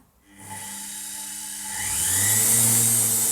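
A washing machine motor driven through a US-52 MAX power regulator with reverse starts from silence and spins up into a steady whine, its pitch climbing further as the speed increases, close and loud.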